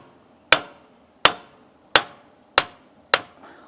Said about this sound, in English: I thought I was gonna need a bigger hammer